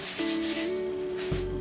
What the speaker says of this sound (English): Continue to wipe it real good